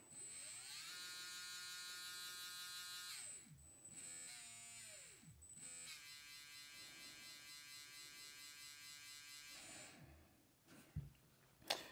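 A XERun V10 G4R brushless RC spec motor fitted with a tuning rotor runs on a bench tester, giving a high, steady electric whine that rises and falls in pitch as it spins up and down.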